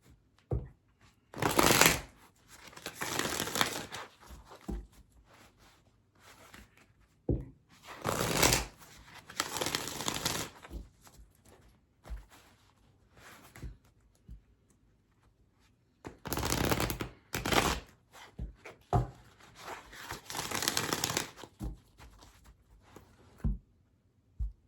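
A deck of oracle cards is shuffled close up in repeated bursts of crisp riffling and flicking, separated by quiet pauses and soft handling.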